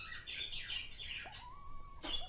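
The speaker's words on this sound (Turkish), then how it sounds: "Senin bu kuşun ne kadar ötüyor ya?" A pet bird sings in a series of bright, high chirps and a sustained whistled note, close and fairly quiet, with short pauses between phrases and no talking.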